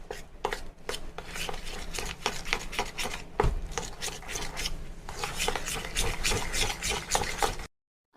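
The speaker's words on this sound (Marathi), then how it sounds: "आता हे चीज आणि पिठी साखर मी फेटून घेतलेलं आहे" A spoon or whisk beats cream cheese with powdered sugar for a no-bake mango cheesecake, giving steady, close, rhythmic scraping strokes against a bowl that stop abruptly at the end.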